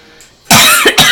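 Someone coughs hard after drawing on a high-airflow vape, two loud close bursts after a brief quiet moment.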